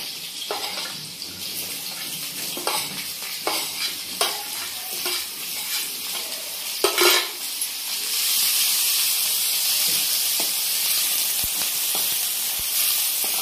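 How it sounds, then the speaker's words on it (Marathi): Onion frying in oil in a pan, a steady sizzle with scattered stirring scrapes and clicks that grows into a louder, denser hiss in the second half; no talking. "छान गुलाबी कलरवर आपल्याला तळून घ्यायचा आहे कांदा हा."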